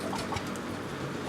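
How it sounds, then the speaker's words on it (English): Hens peck and feed on a pear and a giant cucumber in a backyard run, giving soft, scattered clucks under a faint, steady outdoor background. "Happy chickens eating."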